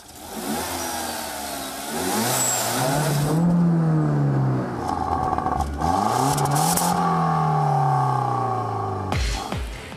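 A powerful sports car engine revs up in two loud rising pulls, dropping back between them, ending with a sharp throttle blip.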